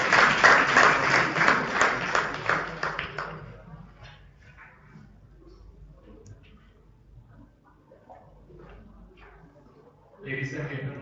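Audience applause at a university undergraduate research symposium welcomes the chairperson to the stage, loud dense clapping for about three seconds that fades into quieter scattered sounds before a voice speaks at the end.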